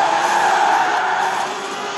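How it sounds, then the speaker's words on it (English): In Forza Horizon 4, a light car with a 1.8-litre engine revving to 8,000 RPM drifts through a long tire skid. The sustained high squeal carries over a strained engine note, loud and close, then fades slightly. "The honourable art of drifting."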